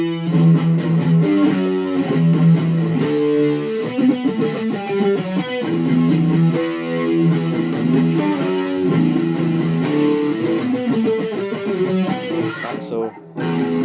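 Distorted electric guitar chugs through palm-muted power chords from the bridge of a song, rhythmic and loud, with open low E chugs and short chord stabs, no voices.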